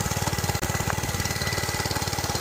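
A Monkey Bike mini bike engine idles up close with a fast, even, chugging pulse, loud and steady with one brief dip early on.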